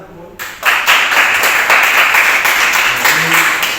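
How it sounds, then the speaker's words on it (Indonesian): Students in a classroom clap together after a teacher's prompt, a steady burst of many hands that starts abruptly and continues evenly and fairly loud throughout, with faint voices underneath. "Tepuk tangan Bu."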